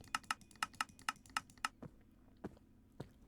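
Typing on a computer keyboard: a quick run of about eight crisp key clicks, then three slower, spaced taps, close and fairly quiet with no talk.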